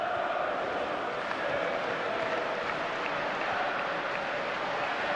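Football stadium crowd noise forms a dense, steady wash of cheering and murmur from the stands, a little distant, with a commentator talking over it.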